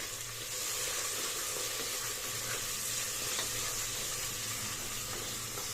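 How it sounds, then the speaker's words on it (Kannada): Mint leaves and green chillies frying in hot oil for mutton biryani, a steady broadband sizzle and hiss that holds evenly throughout, close and moderately loud with no talk. "ಮತ್ತು ಸ್ವಲ್ಪ ಪುದೀನ ಸೊಪ್ಪು ಹಾಕೊಳ್ಳೋಣ ಮತ್ತು ನಾಲ್ಕು ಹಸಿ ಮೆಣಸಿನ್ಕಾಯಿ ಹಾಕೋತಾ ಇದ್ದೀನಿ ಹಾಕೊಂಡು ಚೆನ್ನಾಗಿ ಫ್ರೈ ಮಾಡ್ಕೊಳ್ಳಿ"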